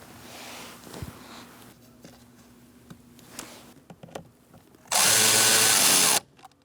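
A power tool drives bolts underneath a Chevrolet Sonic during HVAC blend door actuator work: one loud burst of just over a second near the end, after quieter handling clicks and taps.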